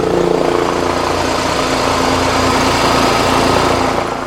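A Honda Pilot engine runs at a steady idle, a close, even mechanical hum with a constant low drone and no voices.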